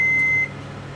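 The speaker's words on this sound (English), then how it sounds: "Close our microwave. Now we're going to put this on for 3 minutes." A microwave oven, used for firing a fused glass pendant, gives one long, loud, steady beep that ends sharply, leaving a low hum from the running oven.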